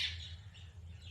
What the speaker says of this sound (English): That's a guinea fowl.